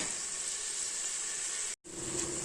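Onion and tomato frying with a little salt in a pan, a steady close hiss and sizzle that runs on alone, with one brief cut to silence before it resumes.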